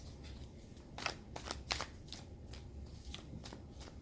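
Tarot cards being shuffled by hand, soft riffling and snapping bursts at irregular intervals, faint and close, with no talking.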